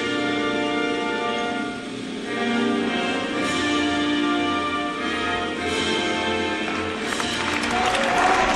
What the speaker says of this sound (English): There you see the crowd. An appropriate tournament-sized crowd.